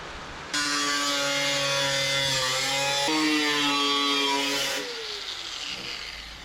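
A grinder running on the steel body of a 1978 MGB GT during restoration, a loud whining tone that holds steady, dips in pitch midway and winds down near the end, with no talking.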